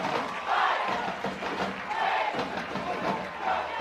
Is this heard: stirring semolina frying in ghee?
no